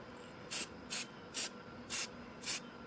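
Spray paint goes onto mower parts as a light misted coat: five short, even hissing bursts at a steady rhythm, close and clear over faint outdoor background, with no talking.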